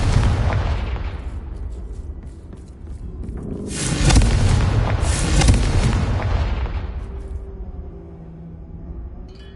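A fiery Confringo blast spell goes off in Hogwarts Legacy, a loud booming burst that swells and rolls for a few seconds before fading, with no talk over it.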